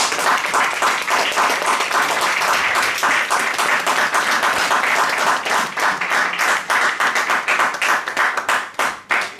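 A church congregation at a French-language worship service applauds in a dense, steady wash of clapping. Toward the end the applause thins, and single hand claps stand out more sharply.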